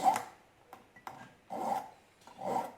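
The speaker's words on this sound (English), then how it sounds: "as I'm filing, I'm going to start curving the file as well, because I want to round off that edge" A hand file works metal hooks for a small escape set in slow, light strokes, three longer rasping passes after a few short scrapes, close up and alone.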